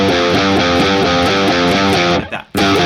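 Heavily distorted electric guitar riff, chunky low-string notes repeating in a tight rhythm, loud and close, cut by a brief gap before a final hit.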